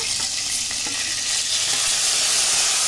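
Tomato paste hitting a hot pan of raw mango and pointed gourd frying with whole spices sets off a loud, close, hissing sizzle that stays intense and unbroken throughout.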